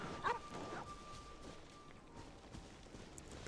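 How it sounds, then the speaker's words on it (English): Dog barking in the video game Genshin Impact, a short burst of barks near the start over a steady background hum and faint footstep-like sounds, with a sustained tone running beneath. "It barks, but it does not bite."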